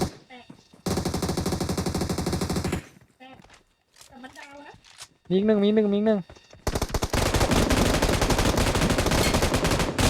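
Bursts of rapid gunfire in PUBG Mobile rattle loudly, broken by quieter stretches with a voice talking and a warbling electronic tone.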